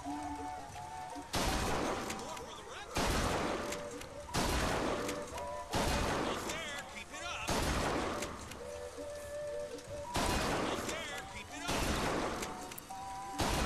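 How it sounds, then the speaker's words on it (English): Comstock shotgun firing in BioShock Infinite, a series of about seven heavy blasts spaced a second or two apart, each followed by a short crashing decay, loud and close. "I'm using the Comstock shotgun, actually."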